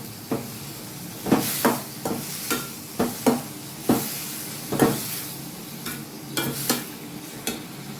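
Water lily stems cook with turmeric in a hot pan, a spoon scraping through them in repeated sharp strokes about once a second over a soft steady sizzle.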